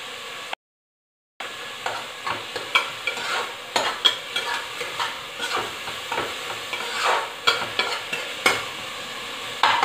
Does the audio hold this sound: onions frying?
yes